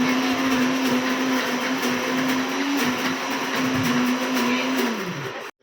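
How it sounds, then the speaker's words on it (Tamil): A blender grinds coconut with soaked almonds into a paste, a steady whining motor hum with gritty churning, close and loud, holding an even pitch before winding down and stopping at the end. "அதெல்லாம் நல்லா பேஸ்ட்டாக அரைச்சிட்டு இப்போ வந்து அது கூட சேர்த்து 1/4 கிலோ பாதம் வந்து ஊற வச்ச பாதம் அதுக்குள்ளே சேர்க்கணும்."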